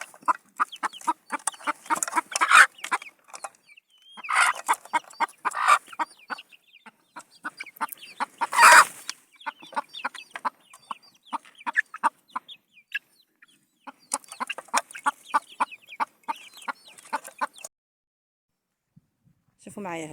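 Hens and a rooster in a rural farmyard near Oujda cluck in bursts, close by, with brief louder calls and short quiet gaps between them.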